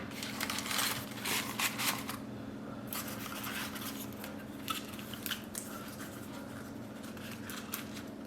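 Scissors snip through a paper calla lily during paper flower bouquet crafting, giving repeated close, crisp cuts that cluster early and continue intermittently, with no talking.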